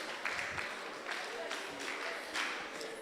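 Students at a chemistry mentorship session give themselves a round of applause, with moderate, uneven clapping that comes in a few swells and stays fairly quiet and distant throughout.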